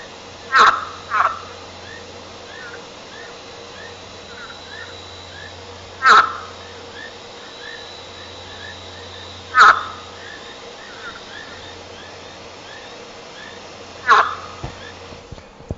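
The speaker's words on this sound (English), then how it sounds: "Brown-backed tree frog," A brown-backed tree frog, Leptopelis mozambicus, calls close by in four loud, sharp, croaking bursts spaced several seconds apart, over a quiet background of faint chirping night insects.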